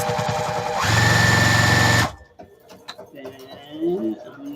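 A sewing machine sewing straight down fabric after a back stitch, giving a loud close steady whir that stops abruptly after about two seconds, followed by quieter sounds and a voice.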